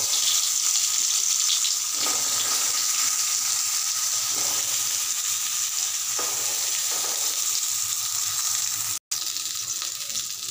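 Seasoned eggplant slices fry in a little oil in a wok, a steady loud sizzle running throughout with occasional faint scrapes and one abrupt cut near the end.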